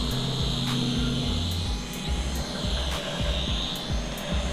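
A camera drone making a quick flyby over a house build with a freshly poured foundation, its rotors giving a steady whining buzz with repeated pulsing sweeps, loud and continuous with nothing else over it.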